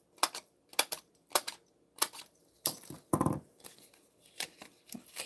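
Scissors snipping paper pieces at a craft table, a series of short, crisp, fairly close cuts falling in an irregular rhythm with little pauses between snips.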